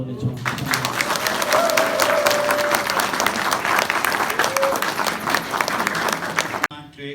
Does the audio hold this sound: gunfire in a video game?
no